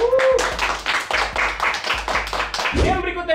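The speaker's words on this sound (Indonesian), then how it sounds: "Tepuk tangan dulu sekali lagi." Several people clap in short bursts during an Indonesian streamer game competition, near and fairly loud, with voices talking and cheering between the claps.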